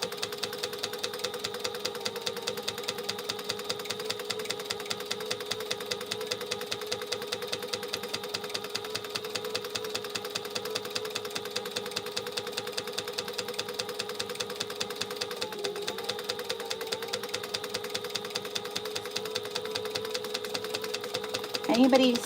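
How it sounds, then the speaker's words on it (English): A sewing machine stitches along a sew line while making an asymmetrical clutch, giving a steady, fast, even mechanical whirr and needle chatter that runs close and continuously throughout. "Now I'm just going to follow that first sew line with my with my foot of my machine."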